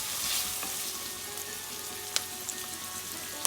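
Onions and three green chilies sizzle steadily in a pan with salt added, a close continuous frying hiss with a few soft clicks and taps from stirring.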